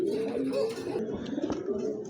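Bombay pigeons at a pigeon sale give soft, repeated coos that carry through a busy, noisy setting, with a few brief bursts of background clatter.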